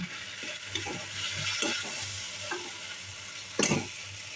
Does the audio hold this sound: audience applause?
no